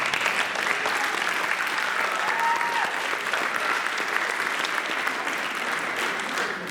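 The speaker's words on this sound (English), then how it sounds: "we're going to clap for you in a second." Sustained applause from a crowd in a room at a high school soccer awards night, steady and full throughout.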